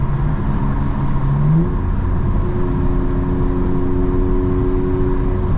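A modified 2024 BMW M4 Competition cruises along, giving a steady, loud engine drone and road roar heard from inside the cabin, with a brief rise in engine pitch early on, then settling to an even hum.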